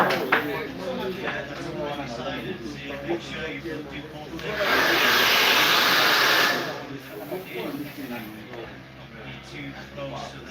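A hair dryer blasts loudly for about two seconds midway while hair is styled during a knotless braids session, with people chatting before and after it.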